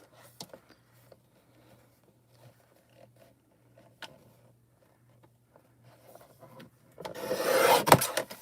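A Stampin' Up! paper trimmer slices through a sheet of hot foil in one short, raspy scrape after a few quiet taps and handling clicks.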